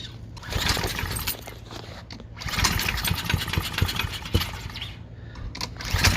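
Honda GC160 engine on a go-kart is cranked and catches, settling into a rough, close, continuous running chug with mechanical rattles.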